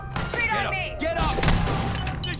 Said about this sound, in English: then I've got all these people shooting. It's absolute mayhem.